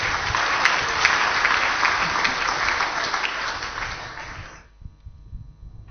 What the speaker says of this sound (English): Give him a resounding applause